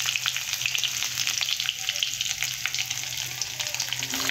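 Ingredients for a vegetarian ghugni sizzle in hot oil with a steady, dense crackle, close and continuous, with faint stirring scrapes throughout.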